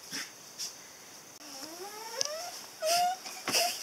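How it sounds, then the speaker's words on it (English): Faint high-pitched whines and squeaky yelps from puppies inside an RV, with soft rustling and a few short bursts of noise between the sounds. "There's the puppies."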